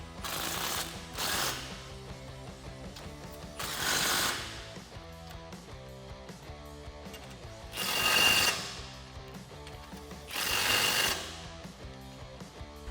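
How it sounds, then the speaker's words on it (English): An 18mm socket ratchets a bolt tight on a rear bumper with tire carrier for a 1987-2006 Jeep Wrangler, with four loud bursts of rapid clicking separated by quieter mechanical ticking, close to the microphone. "we're going to go ahead and tighten it down with an 18mm socket"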